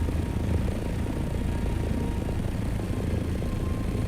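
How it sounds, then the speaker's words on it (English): An assault helicopter in a video game flies overhead with a steady, loud, rumbling rotor and engine drone that holds evenly throughout, with no talking. "That's an assault copter"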